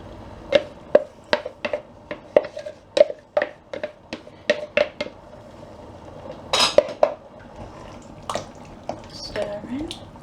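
A spoon stirs passata into a tomato sauce in a pan, making a rapid series of close metallic clinks and scrapes in an irregular rhythm, followed by a few softer knocks.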